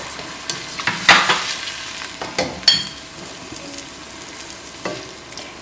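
Spices, salt and pepper powder frying and being stirred in a pan for bhindi masala, with crackling sizzle and scraping bursts near the start and around the third second, then quieter steady frying; a brief word is spoken.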